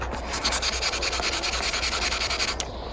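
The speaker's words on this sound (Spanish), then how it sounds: "Y lijar bien todos los contornos, sin apretar." Sandpaper wet-sanding the plastic shell of a Nintendo 64 console, a steady close scraping rub in quick back-and-forth strokes that runs continuously and stops near the end.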